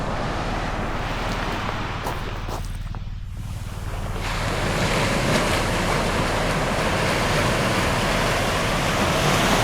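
Ocean surf at a beach in Mangōnui rolls in as a continuous broad wash of breaking waves, loud and close, with wind buffeting the microphone throughout.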